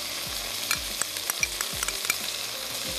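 Tomato paste added to spices frying in a pan for a makhni vegetable dish, a continuous sizzle with repeated soft scrapes and light taps of a spoon stirring, no talking.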